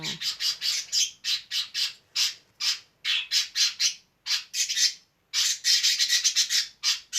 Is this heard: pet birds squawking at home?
yes